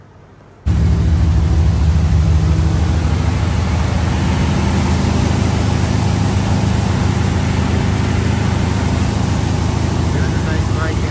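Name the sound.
car engine running after being started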